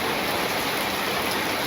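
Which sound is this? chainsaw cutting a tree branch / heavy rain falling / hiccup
heavy rain falling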